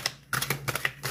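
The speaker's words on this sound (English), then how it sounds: "Okay, Rocky, I'm shuffling." Tarot cards being shuffled by hand, a series of quick papery riffling bursts in an irregular rhythm, close and fairly loud, with a low steady hum underneath.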